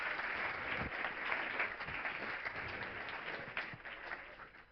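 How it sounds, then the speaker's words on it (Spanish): An audience applauds a speaker at a talk, a dense, steady clapping that holds for several seconds and begins to taper at the end, heard from a little distance and fairly quiet. "Un fuerte aplauso para él."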